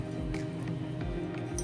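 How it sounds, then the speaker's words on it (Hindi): Pomegranate seeds tipped into a bowl of fruit chaat make a few soft, wet squishing pats close by, spread over a short moment with a steady low background hum and no talking. "और अब मैं इसमें ये अनार के दाने डाल दूंगी"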